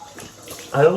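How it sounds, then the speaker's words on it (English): Cold tap water runs briefly to rinse a wound, a soft wash of flowing water under and after some talk, growing louder and splashier near the end. "Let's wash off with some cold water."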